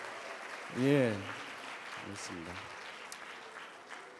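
An audience at a 2019 foundation forum claps for a group of high school students, a steady wash of applause running throughout while someone speaks briefly over it.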